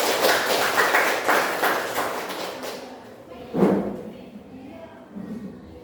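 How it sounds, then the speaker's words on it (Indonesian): Classroom of students clapping hands for a classmate, a loud burst of many hands for about three seconds that fades out, followed by a single thump and faint background voices. "tepuk tangan buat Putri."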